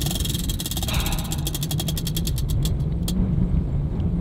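A prize wheel spins with a rapid run of ratchet clicks that slow and space out, then stop, heard up close over steady outdoor background noise.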